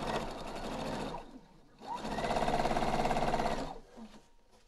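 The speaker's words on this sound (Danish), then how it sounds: "Og så syr jeg simpelthen imellem de to stikninger." A sewing machine stitches a seam between two gathering lines on fabric, running in two steady motorized bursts with a brief pause between them, close and clear with no talking.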